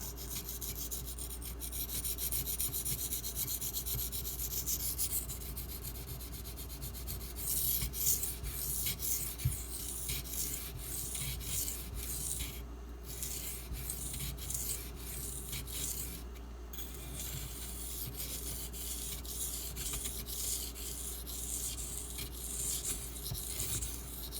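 A Spyderco Delica knife with an SG2 steel blade is drawn across a sharpening stone in a long, steady run of close rasping strokes, each a gritty scrape. Brief pauses break the rhythm, and no one speaks.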